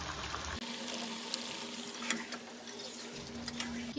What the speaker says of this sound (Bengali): মাছ ভাজা একটু বাকি আছে।